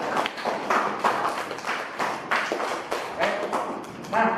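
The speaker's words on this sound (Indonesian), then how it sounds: "Ya, tepuk tangan buat kamu semua." A classroom of students clapping together, a ragged burst of hand claps with uneven taps and thumps, moderately loud and close throughout.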